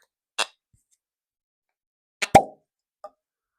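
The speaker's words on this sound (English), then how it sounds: "let's have a little listen to the cork." A cork is pulled from a bottle of Jura The Bay 12-year-old whisky, making a short squeak followed by one sharp, hollow pop, close and clear against silence, with a faint tick afterward.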